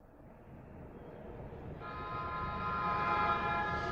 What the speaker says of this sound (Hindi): हम छोटे बच्चों की ट्रेन की तरह क्यों चल रहे हैं?